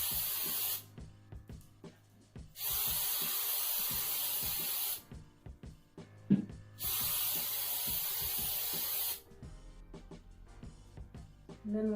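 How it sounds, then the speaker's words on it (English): A spray paint can puts a final coat on a bottle in three long hissing bursts separated by pauses, close and loud over faint handling noises. "And then we're going to just spray it on top"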